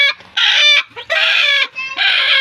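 Noisy broody Rhode Island Red hens give three loud, harsh squawking bursts up close, separated by brief gaps.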